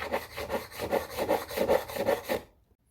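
An offset dressing file rasps across stainless steel frets on a Gretsch guitar in about a dozen quick, even back-and-forth strokes, close and clear, before stopping abruptly.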